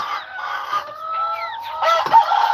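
Several roosters crow and cluck at close range on a farm, loud overlapping calls with long drawn-out crowing notes and a sharp burst near the end.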